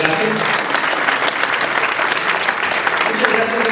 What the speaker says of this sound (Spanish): Vamos a agradecer un fuerte aplauso a Carlos Ojeda,